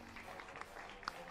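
An audience at an MMA fight press conference gives brief, scattered applause that sounds faint and distant, with a voice talking over it.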